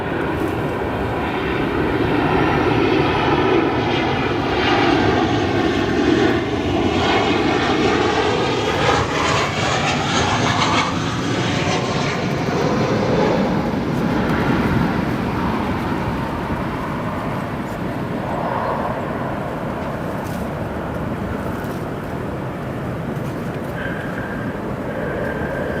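An American Airlines Boeing 737 landing at O'Hare, its engine roar loud and sustained with sweeping tonal whine shifting as it passes, gradually fading toward the end.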